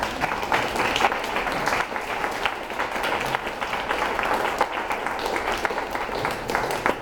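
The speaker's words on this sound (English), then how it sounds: "I'd like to have some applause for our candidates." Audience applause for candidates at a community association meeting, a steady dense patter of many hands sustained evenly throughout at moderate loudness, with no voices over it.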